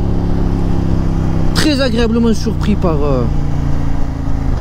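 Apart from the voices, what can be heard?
CFMOTO 800MT motorcycle engine (KTM-built) while riding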